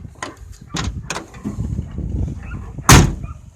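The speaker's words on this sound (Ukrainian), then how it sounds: "Покажу, як відкриваються ці дверки." Doors of a GAZ-21 car being opened and shut, close by: a few sharp metallic latch clicks and clunks, then one loud, heavy slam near the end, with no talking.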